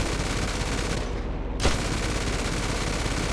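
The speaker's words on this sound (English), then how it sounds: "We'll do a strafing run right here on the runway." A P-51D Mustang in GTA 5 fires its machine guns on a strafing run over a runway, a dense, continuous, loud rattle that holds throughout, with one sharper crack partway through.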